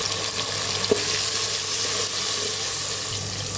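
Spices, vegetables and chopped tomato fry steadily in a hot pan for bisibelebath masala, a continuous close sizzle with faint stirring scrapes throughout.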